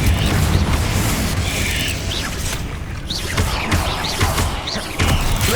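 A Confringo blasting spell bursts in the Hogwarts Legacy video game, a loud, dense rumbling blast with mechanical creaks and debris rattling that lingers across several seconds.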